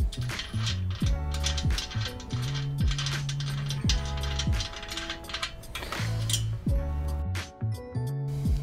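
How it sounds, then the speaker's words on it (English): A number 18 wrench works the axle nut off a Lectric e-bike wheel to fit a pet trailer bracket, giving repeated ratcheting clicks and metallic clinks in a steady rhythm, close and moderately loud, with no talk. "using your number 18 wrench, we'll remove the axle nut to place the bracket"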